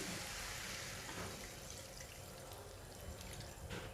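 Water pours steadily into a pan of sautéed kohlrabi, a continuous close splashing rush throughout.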